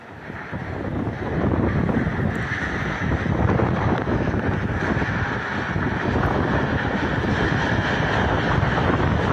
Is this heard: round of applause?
no